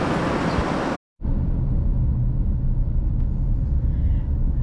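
A car cruising along rural Alabama back roads, a steady low road rumble and tire noise heard from inside, broken by a brief near-silent cut about a second in, then continuing evenly.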